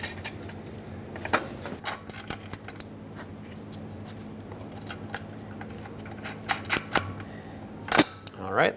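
Ratchet with a 14mm socket snugging bracket bolts on an air suspension helper spring kit of a 2003-2009 Dodge RAM 2500: scattered short metallic clicks and clatter in a few bursts, close and moderate in level.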